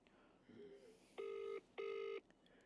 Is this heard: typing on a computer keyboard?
no